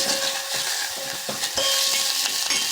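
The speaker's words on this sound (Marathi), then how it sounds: "फोडणी छान तडतडली आहे" Continuous crackling and sizzling of chilies, curry leaves, coriander and asafoetida frying in hot oil, close and fairly loud, with a few faint metallic clinks.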